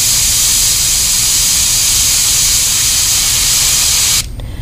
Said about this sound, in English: Don't want to overdo the black on this, at least with an airbrush.